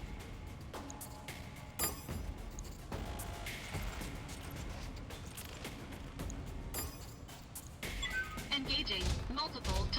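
Distant weapons fire rattles through a BattleTech mech battle, a steady dense barrage of thumps and cracks at low level with sharper bursts, with voices in the mix.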